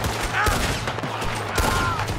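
Gunfire in Red Dead Redemption 2 during a chaotic shootout, with sharp shots cracking over a steady background din, mixed with faint voices and game sounds.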